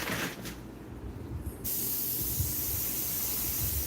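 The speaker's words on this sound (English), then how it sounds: "Real subtle, I want to spray it." Paint airbrushed in a steady close hiss while painting a rose, starting partway through after a brief quieter moment, continuing without a break to the end.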